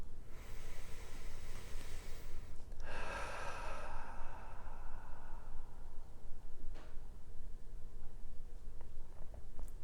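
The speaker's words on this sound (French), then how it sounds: "vous pouvez doucement reprendre quelques respirations plus profondes" During a guided meditation, a single slow, deep breath rises audibly a few seconds in and fades away, set against quiet background hiss with no speech.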